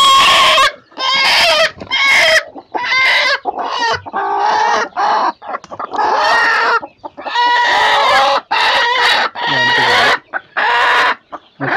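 A brooding hen sitting on eggs clucks loudly and close by in a long, rapid series of harsh, throaty calls with brief pauses between bursts, alone without talk.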